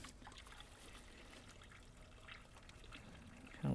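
Coolant trickles steadily out of an upper radiator inlet hose on an older GM truck with a Vortec V8, a faint continuous dribble into a pan, with a brief louder bump at the very end.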